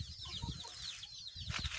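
Siruvadai chickens cluck softly in a farm pen, close and fairly faint, with short chirpy calls and low throaty clucks over a quiet background.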